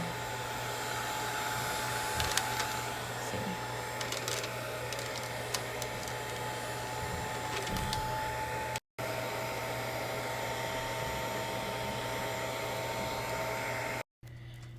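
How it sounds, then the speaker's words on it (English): A heat gun blows a steady, loud, even whir while shrinking wrap around a 20 oz straight sublimation tumbler, with two brief cutouts near the end. "you need to start with like low heat when it comes to using the heat gun"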